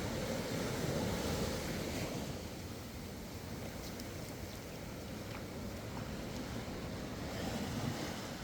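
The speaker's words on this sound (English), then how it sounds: "the undulating water breaking onto the shore" Steady surf washes onto a beach in Porto Covo, Portugal, a continuous broad rush of breaking waves with some wind buffeting, no voices.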